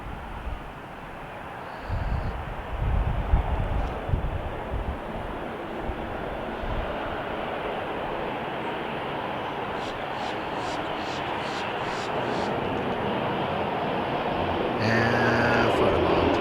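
Commercial airliner making an all-wheel touchdown on landing, with a steady, loud broadband jet engine roar and rumble that continues through the rollout toward a quick stop.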